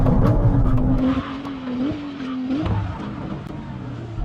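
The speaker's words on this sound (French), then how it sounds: "Avant ça, faisons le test de freinage." Porsche 911 Turbo S and Ferrari 296 in a braking test, a loud engine drone with a steady tone, a tire squeal and a pitch slide as the cars slow, under continuous road noise.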